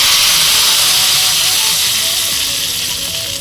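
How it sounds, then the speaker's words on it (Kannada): Curry leaves, green chilli and a pinch of asafoetida frying in a tempering for sweet mango gojju, a loud steady hiss and crackle of hot oil that holds throughout and eases slightly toward the end. "ಒಂದು ಸೊಪ್ಪು, ಒಂದು ಮೆಣಸಿನ್ಕಾಯಿ, ಒಂದು ಚಿಟಿಕೆ ಇಂಗು, ಇಷ್ಟು ಹಾಕಿ ಒಂದು ಸಿಂಪಲ್ ಆಗಿದ್ದು ಒಗ್ಗರಣೆ"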